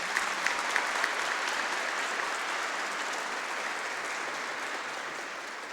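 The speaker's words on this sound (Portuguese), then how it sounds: "com uma salva de palmas" Steady applause from a church congregation at a parish anniversary Mass, dense clapping holding at an even level throughout with no voices standing out.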